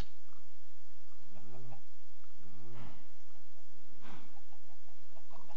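Three short, chirpy clucking calls from a chicken in the blocky sandbox game Minecraft, evenly spaced over a few seconds against a faint steady background hum.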